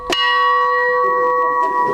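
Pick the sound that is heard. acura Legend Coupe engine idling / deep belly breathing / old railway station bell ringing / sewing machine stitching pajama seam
old railway station bell ringing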